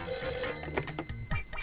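A telephone rings in a Tamil comedy scene, a near, steady ringing tone with a harsh bell quality over room noise, no voices.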